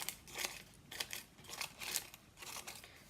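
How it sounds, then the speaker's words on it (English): Scissors snip through paper in a quick series of close, crisp cuts, each a short dry crunch with brief pauses between, heard alone without talk. "Then I'm going to have a go at cutting again"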